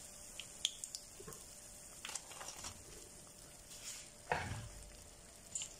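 Cauliflower frying in hot oil, a soft continuous sizzle broken by scattered crackles and pops, with one louder burst near the end, heard alone without talk.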